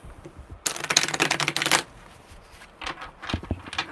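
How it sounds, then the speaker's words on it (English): Tarot cards riffle-shuffled in one loud, dense burst lasting about a second, followed by quieter handling sounds and light taps. "Alright, one more good shuffle."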